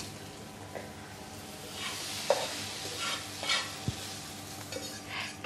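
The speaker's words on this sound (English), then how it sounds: "You need to mix the sauce and the spaghetti very nicely so that each strand of spaghetti is coated with the sauce." Schezwan sauce and spaghetti being stirred together in a pan, soft scraping and tossing over a faint sizzle, with a couple of light clinks, quiet and close.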